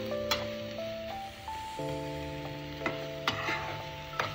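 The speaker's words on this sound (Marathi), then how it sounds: "मस्त तेल सुटलं साईडने की त्यात आपण सुके मसाले घालून घेऊया" Onion, tomato and dry spices sautéing and being stirred in oil in a pan for Malvani surmai fish curry; a soft, steady sizzle with occasional scraping stir clicks, under quiet background music tones and no speech.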